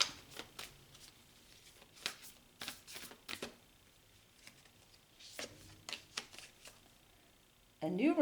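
Oracle cards from a moon deck being shuffled in quick, soft riffling bursts, with pauses between them and a louder rustle at the end; a voice talks faintly in between.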